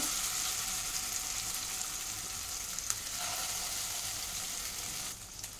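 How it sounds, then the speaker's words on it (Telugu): Mint and onion paste sizzles steadily in a hot oiled pan with mace and cumin, a continuous close frying hiss with a faint stir partway through and no talking. "పచ్చివాసన పోయేంత వరకు ఇది ఫ్రై చేసుకుందామండి"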